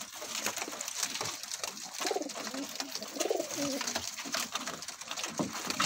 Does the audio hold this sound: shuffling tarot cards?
no